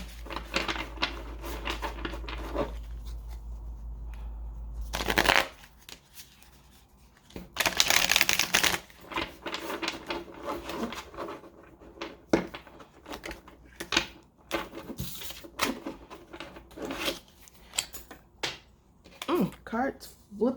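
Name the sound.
cards shuffling and flipping for a reading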